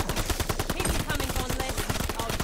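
Sustained automatic gunfire in Call of Duty: Vanguard Zombies, a rapid, steady stream of close, loud shots rattling without pause from start to finish.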